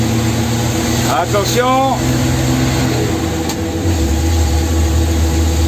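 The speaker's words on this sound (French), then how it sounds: "Je sais pas si vous entendez le bruit du moteur parce qu'il y a les ventilos" A vehicle's engine drones steadily in third gear, then drops sharply in pitch as it shifts up into fourth, partly masked by loud fan noise, with a brief spoken word.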